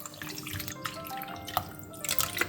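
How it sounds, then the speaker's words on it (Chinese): Clear water pours into a pot of cut potato chunks, a steady close trickle with scattered drips and splashes running the whole time. "倒入可以没过土豆的清水"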